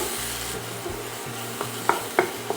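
Chopped onion sizzles steadily in hot oil with fennel seeds while a spoon stirs it in a pan. The frying hiss is continuous and close, and a few louder scrapes and clinks come near the end.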